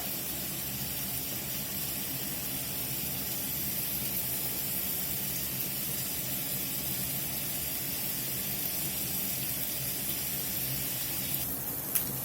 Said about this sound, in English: I got a half a pound of this breakfast sausage browning up here in this skillet.